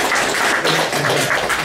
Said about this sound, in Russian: аплодисменты ему